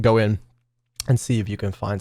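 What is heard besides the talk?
No everyday noises stand out.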